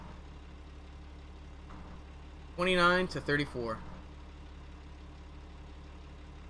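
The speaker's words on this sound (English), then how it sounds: "Go, turn off that engine." A vehicle engine idles in a video game, a steady low droning hum running through the whole stretch, with someone talking briefly over it midway.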